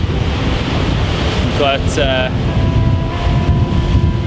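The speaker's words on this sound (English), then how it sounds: "it's a little bit windy" Strong wind roars across the microphone beside the sea at Kogel Bay, a loud, constant buffeting rush, while a person speaks briefly over it.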